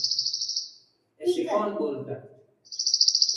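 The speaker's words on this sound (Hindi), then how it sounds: "ध्यान से सुनो, चिड़िया एक प्रकार से चहचहाती है।" Bright, rapid chirping from a small bird, heard alone at the start and again at the end, with someone speaking briefly in between.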